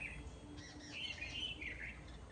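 Birds chirp and tweet from a tree in a few quick, faint bursts of high calls over quiet background.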